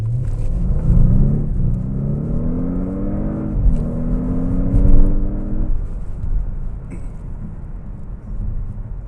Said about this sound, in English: we'll do a full throttle run